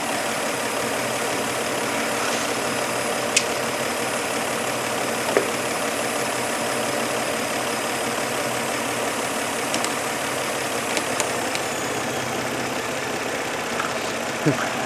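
A 2000 Toyota Solara engine idles with a lean condition, a steady mid-pitched drone running the whole time with faint clicks and taps over it, fairly close and even.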